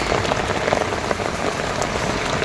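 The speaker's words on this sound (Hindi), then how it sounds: "बहुत तेज़ बारिश हो रही है" Heavy rain pours down steadily, a dense close patter drumming on surfaces with no pauses, falling on a spinach garden during harvesting.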